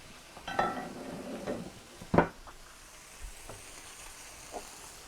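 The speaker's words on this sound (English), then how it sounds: "The pork goes back in. Any juice that's come out, put that in, stir it around." Pork tenderloin and its juices stirred back into a pan, a few close scraping stirs with a soft sizzle underneath and one sharp clatter of the utensil against the pan.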